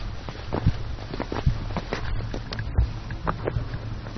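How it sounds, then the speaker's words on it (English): Footsteps echo inside a cave with formations like pillars, two sets of steps padding in a loose uneven rhythm, close and fairly soft over a faint windy hiss, with no voices. "the only sound you can hear in here are the sounds of your 2 footsteps"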